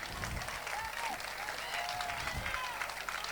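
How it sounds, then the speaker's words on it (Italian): Audience applauding at a Casoria stage show honouring Neapolitan song, a steady wash of clapping from a crowd, with a voice calling out over it. "voglio un grande applauso per questo"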